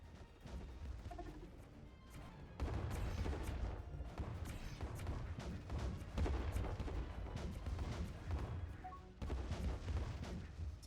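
Explosions and gunfire from bombing runs against an armored base in the space strategy game Distant Worlds 2, a steady rumbling barrage with repeated blasts and sharp cracks, no talking.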